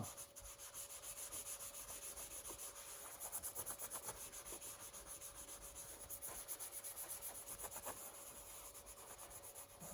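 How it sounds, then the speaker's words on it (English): Metal polish is rubbed by hand onto the frame of a 1989 Kawasaki Ninja ZX7, a faint, steady back-and-forth scrubbing in close, regular strokes with no talking. "So you want to rub this stuff real good until it turns black."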